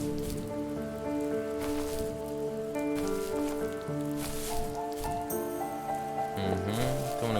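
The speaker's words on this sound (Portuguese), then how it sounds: "Tem pouca chuva. Tem pouca chuva." Light rain patters softly in The First Tree game, a faint steady wash under drifting musical tones, with no voices present.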